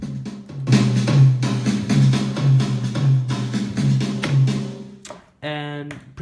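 A synth lead processed with a limiter, overdrive and multiband compression plays a punchy, rhythmic phrase of repeated notes, then pauses before a brief buzzy held tone.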